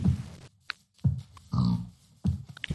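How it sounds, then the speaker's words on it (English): Pigs in the Minecraft video game grunt in short, fairly loud bursts spaced across the moment, with brief quiet gaps between them and no talking. "Pigs!"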